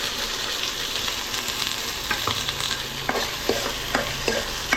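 Ginger garlic paste fries in a pan for mutton sambar, giving a steady close sizzle with sharp scraping clicks from the spoon stirring at irregular intervals. No one speaks.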